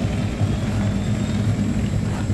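A helicopter in the video game Wolfenstein: The New Order, a continuous throbbing rotor and engine drone that stays loud and even throughout, with no talking.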